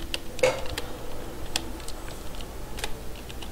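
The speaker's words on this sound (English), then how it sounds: "I can type in negatives, numbers with decimals" Keys clatter on a computer keyboard as numbers are typed in, a sparse run of crisp clicks at an uneven pace, close by against a quiet background with no talking.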